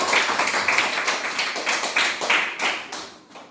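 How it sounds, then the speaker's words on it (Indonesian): A classroom of schoolchildren clapping for a group of classmates, a dense, steady patter of many small hands at close range that carries on for several seconds before tapering off at the end. "Tepuk tangan untuk kelompok dua"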